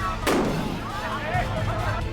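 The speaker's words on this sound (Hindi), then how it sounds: "बिहार चुनाव में जिसकी जीत हुई उसके खेमे में आतिशबाजी हो रही है।" Fireworks go off at a victory celebration for the Bihar election winners: one sharp, loud blast rings out, then a steady crowd din and voices continue underneath.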